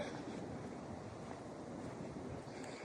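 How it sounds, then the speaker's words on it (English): Ocean surf on the beach at South Padre, heard as a steady, broad wash of waves with some wind noise on the microphone, continuous and fairly faint, with no voices. "Down towards the ocean."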